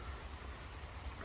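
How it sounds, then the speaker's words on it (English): Steady rain falls outdoors as a continuous, even hiss with a low rumble underneath, no voices over it. "even right now I'm recording this, like, there's a bunch of rain going on"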